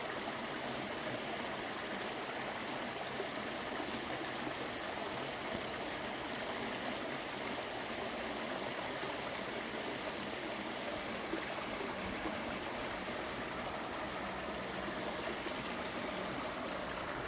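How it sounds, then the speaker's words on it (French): Steady rushing and splashing of a small waterfall on a woodland stream, continuous broadband water noise held at an even level with no voices. "Ah, là la cascade c'est bien mais..."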